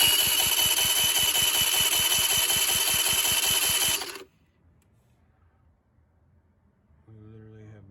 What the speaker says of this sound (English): All right, so let's hit the starter.